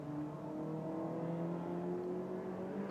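Sport Specials race car at Rockingham circuit crossing the line with one lap to go, a steady, moderately distant engine drone with sustained whining tones that shift slightly in pitch.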